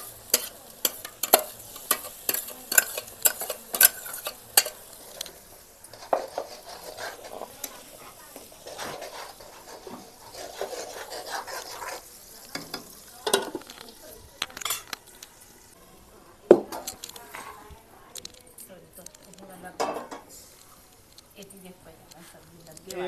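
Hot oil spattering while frying in a home kitchen, irregular crackles and pops with clinks of a utensil against the pan, someone talking over it at times.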